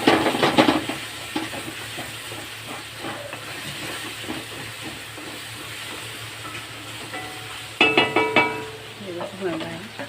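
Ginger garlic paste fries in a pan with a continuous hissing sizzle, punctuated near the start and again toward the end by a utensil stirring and clinking against the pan, close by.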